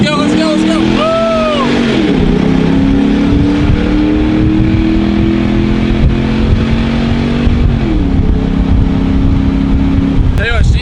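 A Ford Mustang's engine accelerates hard, revving loud and close with two rising gear pulls across the stretch, a steady roaring drone underneath and brief whoops of excited voices at the start.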